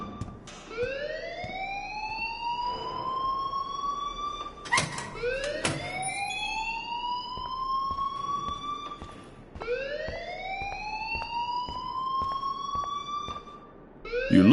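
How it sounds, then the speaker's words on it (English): A rising-and-falling electronic alarm wails in repeated sweeping cycles inside a school building in the Life is Strange video game, loud and steady, with a brief clatter partway through. "please turn off that alarm since that's your job"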